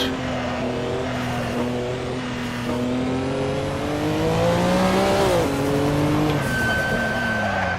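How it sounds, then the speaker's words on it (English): A Corvette V8 race car engine roars steadily and loud, its deep rumbling pitch climbing then dropping as it revs, with no talking. "It was just ungodly to hear that Corvette rumble."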